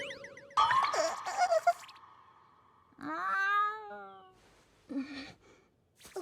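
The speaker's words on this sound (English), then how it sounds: "What are you mewing around here, cutie?" Cat in an anime, giving a clear drawn-out meow of about a second in the middle, surrounded by short chirpy sounds and quieter gaps.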